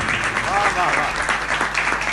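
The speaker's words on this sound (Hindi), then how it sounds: "नगर वालों ताली बजाओ तो ढंग से बजाना।" Clapping from the audience at a Hindi poetry recital, a steady moderate wash of applause with a voice briefly audible over it.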